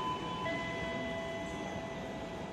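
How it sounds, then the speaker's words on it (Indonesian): Argo Parahyangan train, its locomotive in Ketupat Ramadan livery, pulling into station track 4 from the east: a steady, continuous rumble with sustained tonal hums and no voices. "Jalur 4 dari arah timur masuk kereta api Argo Parahyangan memakai lokomotif livery Ketupat Ramadan"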